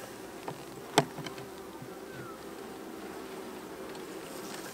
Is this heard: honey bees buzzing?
yes